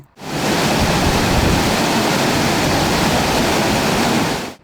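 Floodwater pouring from a pond on the Buchok river after its spillway sluice was destroyed, a loud, continuous roaring rush like a waterfall that holds steady throughout.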